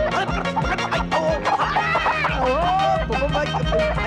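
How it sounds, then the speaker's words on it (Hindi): A chicken clucks frantically as it is chased in a 1997 Hindi action film scene. The loud, busy squawks run throughout, mixed with music and voices. "अरे ओ मेरी मुर्गी"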